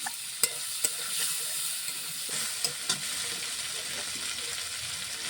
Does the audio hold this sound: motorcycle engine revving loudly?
no